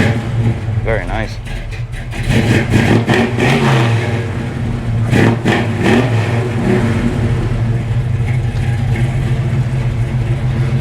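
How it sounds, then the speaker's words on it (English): A restored 1970 Chevy C10 CST truck with a Black Widow exhaust revs up to about 4,000 RPM several times, loud throaty surges over a rumbling idle, with people talking throughout. "For you guys that want to hear the Black Widow exhaust, that's what it sounds like."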